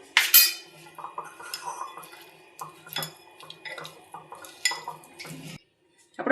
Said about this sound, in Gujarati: બધું સરસ રીતે મિક્સ કરી લેશું